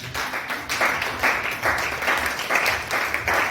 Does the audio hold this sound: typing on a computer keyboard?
no